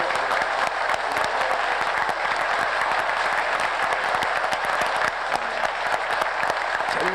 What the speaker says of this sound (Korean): 우리 하나님께 영광 박수 한번 돌립시다.